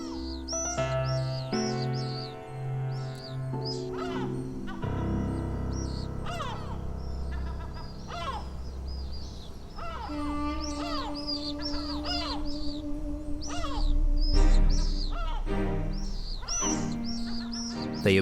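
Gulls give repeated sharp, cawing calls, some near and some farther off, scattered over steady orchestral music that sits beneath them throughout.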